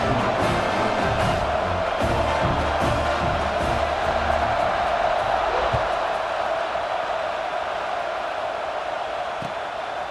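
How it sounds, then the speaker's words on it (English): A stadium crowd in EA Sports College Football 26 roars and cheers continuously before a kickoff, a dense, loud wash of voices that stays constant throughout. "this crowd now ready to get behind them"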